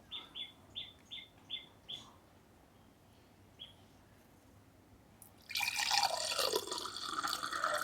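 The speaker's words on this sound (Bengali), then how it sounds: "এবার আমি শরবতটা ঢেলে নেব।" Sherbet, a summer drink, is poured, a sudden close splashing rush of liquid that starts after a quiet stretch with a few faint bird chirps.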